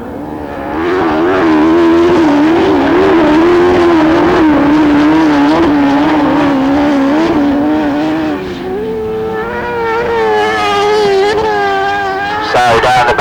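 Autograss race cars on the last lap of a grass-track race, engines droning loud and close with rising and falling revs as they pass, then a higher shift in pitch near the end.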